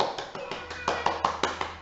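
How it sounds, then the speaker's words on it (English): A small group of students clapping for themselves at the end of an acting lesson, a short run of distinct, fairly quiet hand claps with a loose, uneven rhythm. "Give yourselves a round of applause."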